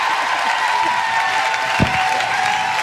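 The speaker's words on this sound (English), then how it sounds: "Give her a round of applause" A studio audience applauds a comedian guest on a comedy podcast show, steady clapping and crowd noise throughout the short stretch, with a brief louder thump near the end.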